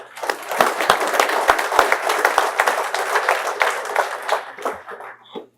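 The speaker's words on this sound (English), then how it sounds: "So they all deserve a round of applause for that." Sustained applause from a crowd at a Scout troop Court of Honor, dense and steady for several seconds with a few sharp nearby claps, fading out at the end.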